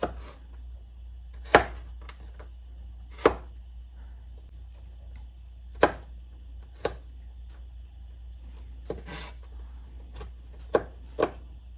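A knife chops jalapeno, habanero, onion and green pepper on a board in sparse, separate thuds spaced a second or two apart, close and clear against a quiet background, with no talking.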